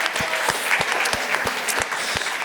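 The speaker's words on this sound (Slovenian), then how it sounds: "Potem pa en aplavz za gospoda iz Murske Sobote," Audience at a lecture applauding a guest, steady dense clapping with a few louder individual claps standing out at regular intervals, fairly close and continuous throughout.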